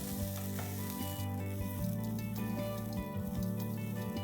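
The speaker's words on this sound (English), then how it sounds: "let's roast this coconut till it's nice and golden brown" Freshly grated coconut roasts in a pan with dried chillies, a continuous soft frying hiss and faint crackle held at an even, quiet level with no voices.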